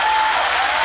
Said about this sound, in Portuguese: aplauda Jesus bem forte em agradecimento a Deus